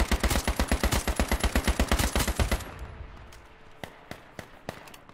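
A full-auto AK rifle firing in a video game, a fast, evenly spaced burst of loud close shots for about two and a half seconds, followed by a few scattered distant single shots.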